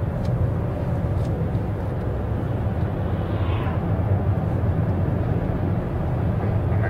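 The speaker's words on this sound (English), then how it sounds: "I see a helicopter, but we don't care." A steady low engine drone from a red helicopter flying overhead hangs in the background throughout, with a faint distant rotor-like hum and no talk.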